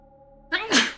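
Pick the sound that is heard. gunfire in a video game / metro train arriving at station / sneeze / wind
sneeze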